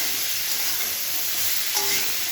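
Fried potatoes and salted boiled soybeans sizzle steadily in a hot pan, a close, even hiss of frying oil with faint stirring scrapes.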